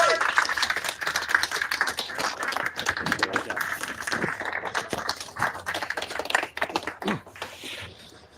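A small audience claps for speaker Martin Novoa at an Intact Global news conference, giving fairly dense, steady, close-sounding applause with sharp individual hand claps that lasts the whole stretch, then thins out near the end.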